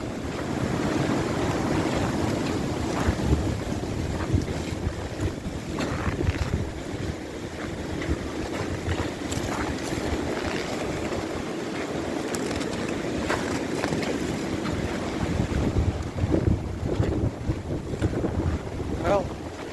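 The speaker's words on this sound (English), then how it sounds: "You can hear the wind." A strong night windstorm in Alaska roars steadily and loudly, buffeting the microphone and rushing through trees amid broken branches, with continuous gusting and no pauses.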